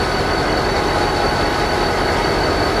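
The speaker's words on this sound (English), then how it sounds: "And there's another train coming through." A loud, steady rumble of a passing train, a dense roar with a faint high whine, sustained and close throughout.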